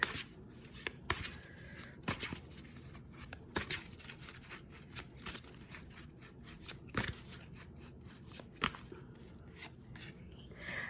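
A hand-cut mock-up deck of cards is shuffled at close range, giving repeated rough riffling and snapping bursts at irregular intervals over several seconds.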